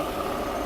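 A Mercedes W126 300SEL engine idles in a brief, steady low hum at moderate volume.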